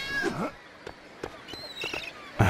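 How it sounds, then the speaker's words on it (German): A cat meows in the Lego City Undercover video game, a few short, high meows spaced irregularly with small clicks between, fairly close and clear. "Da oben ist eine Katze."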